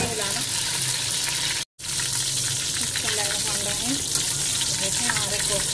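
Chicken and spinach kofta balls sizzling steadily in hot oil while being stirred, a continuous close frying hiss with a brief cut partway through and a voice talking over it.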